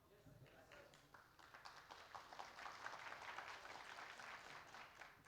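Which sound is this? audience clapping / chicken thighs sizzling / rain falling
audience clapping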